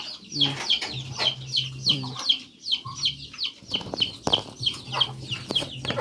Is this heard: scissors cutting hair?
no